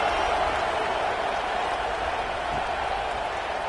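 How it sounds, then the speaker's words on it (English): Stadium crowd buzz from an EA Sports College Football 26 broadcast of South Florida Bulls versus Florida Gators, a steady, dense roar of cheering and applause held at an even level throughout. "this crowd is buzzing after that last score."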